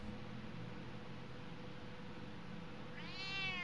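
A cat in the Batman Telltale video game, episode 3, gives one clear meow near the end over a steady, faint background hum.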